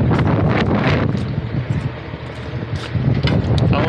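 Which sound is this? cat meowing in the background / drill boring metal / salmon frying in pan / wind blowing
wind blowing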